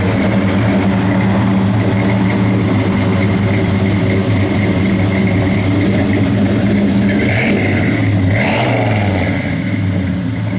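A 1969 Chevrolet Chevelle SS V8 rumbles loud and close, a deep steady idle with a couple of brief revs near the end, and no voices.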